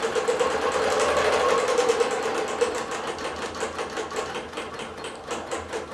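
A digital quilting machine stitches with stitch regulators controlling stitch length, giving a close, steady rapid mechanical chatter that runs throughout and eases slightly toward the end.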